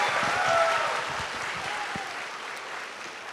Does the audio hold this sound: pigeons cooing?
no